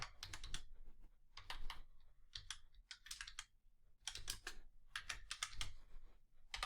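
Quick bursts of typing on a computer keyboard, clattering keystrokes in rapid clusters separated by short pauses, close and fairly quiet.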